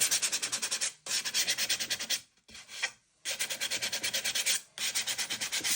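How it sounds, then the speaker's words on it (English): Rapid rhythmic rasping strokes of a sander lightly going over a painted old sewing table drawer, close and loud, in steady bursts broken by brief pauses. "so now I'm going to take another sander and lightly go over what did stick."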